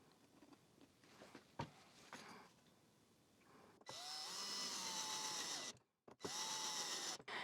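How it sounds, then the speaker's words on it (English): Wooden clamp jaw pieces being screwed together with a power drill, heard as two sustained, loud whirring runs after quieter workshop handling noises, with a brief pause between them. "And now simply both of these pieces I'm gonna glue and screw together, creating our jaw of the clamp."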